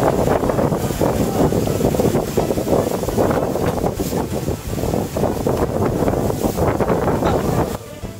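Strong wind gusts before rain at Huai Tueng Thao reservoir in Chiang Mai, a loud, roaring buffet against the microphone that rises and falls in waves, then drops off sharply near the end.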